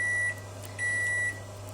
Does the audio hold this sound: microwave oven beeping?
yes